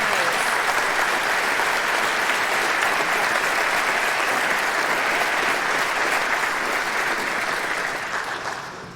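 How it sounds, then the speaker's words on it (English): Sustained applause from an audience honoring Candor School District honorees at a recognition ceremony, steady and dense clapping throughout, easing slightly at the very end. "Another round of applause for the Candor School District honorees."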